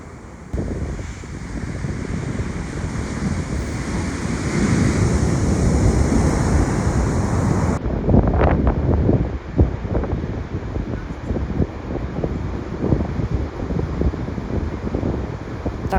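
Ocean waves crash and roll against a rugged, rough-water stretch of Portugal's coast, a loud, continuous roar of surf mixed with gusty wind buffeting the microphone, with no voices.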